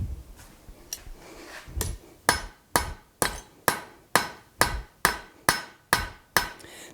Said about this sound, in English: come in with the back side of the cross peen, and start spreading that piece a little bit further